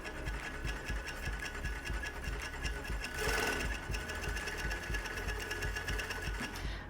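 An overlock sewing machine stitches a neckline seam on knit fabric, running loud and steady with a rapid, even mechanical chatter throughout and a brief surge in speed partway through.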